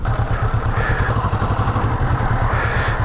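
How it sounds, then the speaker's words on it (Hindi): A motorcycle engine idles with a steady low chugging throb while the bike is parked at the Open Hand Monument in Chandigarh, loud and close, with no talk over it. "तो बाइक को हम यहीं पे खड़ी करते हैं।"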